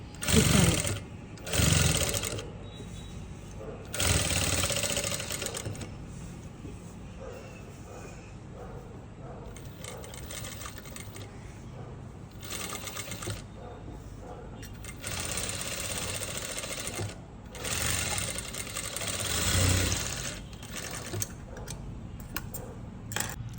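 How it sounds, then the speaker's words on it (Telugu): A sewing machine stitches the lining of an umbrella dress in repeated runs of whirring and ticking, broken by brief pauses, close by, with occasional soft talking between passes. "ఇలా ఉల్టా తీసేసి ఒకసారి ఇలా స్టిచ్ చేసుకుందామండి"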